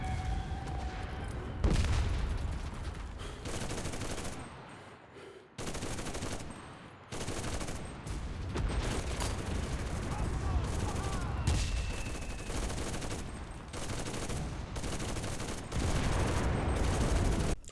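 A machine gun nest in the game Enlisted, set on the Stalingrad battlefield, fires long sustained bursts of dense automatic gunfire with brief pauses, loud and close, layered over a distant battle din.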